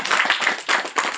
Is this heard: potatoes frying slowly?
no